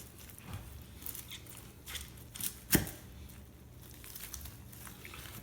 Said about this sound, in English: let's cut this meat and see what it looks like